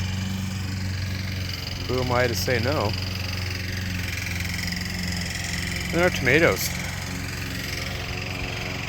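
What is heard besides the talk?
lawn mower running nearby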